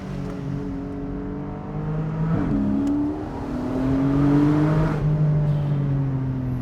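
A Porsche 718 Boxster GTS 4.0 engine revs hard and climbs through the gears, its rising harmonic drone loud and close, with a brief dip as a shift happens midway.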